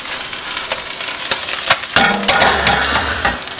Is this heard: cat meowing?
no